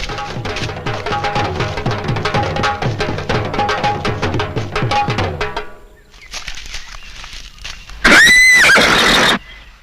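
In a Hindi audio drama about the Delhi Sultanate and Alauddin Khilji, a horse gives one loud, close whinny near the end, after a stretch of rhythmic, music-like beats.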